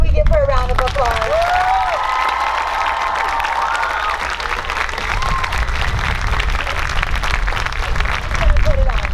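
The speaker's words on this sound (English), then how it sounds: "Can we give her a round of applause?" Audience applause at a music camp presentation rings out steadily for about nine seconds, with voices and cheering calls layered over the dense clapping.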